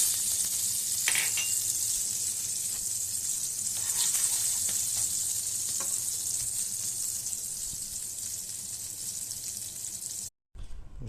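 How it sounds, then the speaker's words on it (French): Butter melts with sugar in a pan, giving a continuous bright sizzling hiss with faint occasional ticks, steady for several seconds before a brief cut to silence and back. "on va faire fondre le beurre. Je vais rajouter le sucre."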